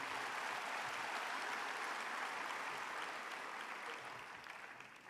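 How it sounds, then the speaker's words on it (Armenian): Sustained audience applause filling a hall at a political party gathering, a dense steady wash of clapping that tapers slightly toward the end, with no talk over it. "Եկեք եւս մեկ անգամ ծափահարենք մեր լավ ընկերոջը"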